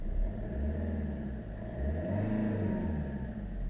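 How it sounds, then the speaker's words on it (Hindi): A 2014 Maruti Suzuki Ritz VDI diesel car engine revs up and eases back twice, a deep rumbling idle swelling into louder roars, close by with no talking. "रेस दे के दिखाता हूँ किस तरीके से इसका इंजन का साउंड आता है"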